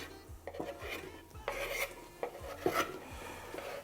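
Chopped beetroot pieces tumbling into a bowl, a series of soft knocks and scraping rubs as a knife or board pushes them off, fairly quiet and close.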